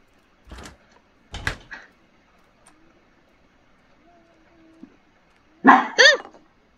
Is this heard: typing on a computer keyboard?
no